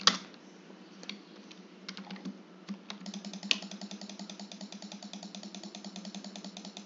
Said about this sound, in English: I think you can probably hear my mouse clicks.